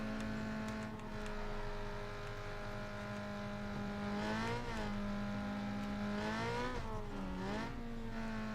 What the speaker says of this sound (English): You just hear this at 3 o'clock in the morning. It's like, who's running a weed eater? Then you look outside, it's a Honda Civic.